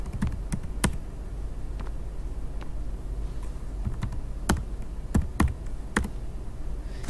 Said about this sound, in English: I just have to type that into my calculator.